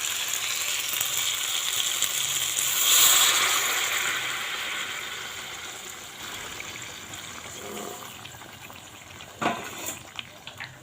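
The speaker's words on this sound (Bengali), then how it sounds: "গরম জলটা দিয়ে দিলাম।" Hot water poured into a pan of browned, well-fried meat curry, giving a broad hissing, bubbling rush that swells early and then settles into a steady simmering noise, with a few sharp clinks near the end.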